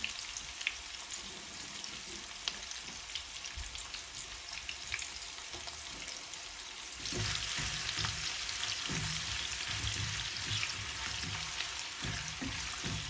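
Chopped onion frying in hot oil for dahi bhindi, the Indian okra and yogurt dish, gives a steady close sizzle that grows noticeably louder and busier about halfway through.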